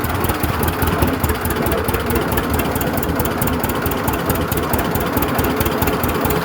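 A 1937 unstyled John Deere A tractor engine running steadily, a loud, close, rough low chugging with a continuous mechanical rattle and no voices.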